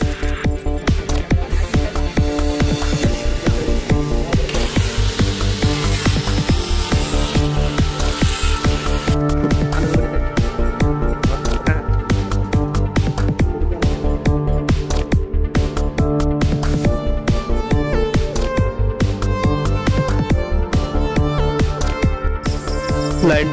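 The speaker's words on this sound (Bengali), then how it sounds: "এরপর বেসিং এর 8 ইঞ্চি পাইপটি মাপ দিয়ে কেটে নেব।" An 8-inch basin pipe being cut to measured length during sanitary plumbing work, a fast, rhythmic sawing rasp repeating steadily and close for the whole stretch.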